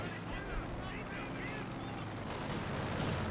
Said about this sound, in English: That is some light artillery barrage.